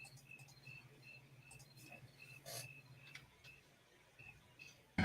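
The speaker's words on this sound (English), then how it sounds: "The crickets are very impressively loud and awesome tonight." Crickets chirping at night, faint repeating high trills in an irregular rhythm over a quiet background, with a soft low hum underneath.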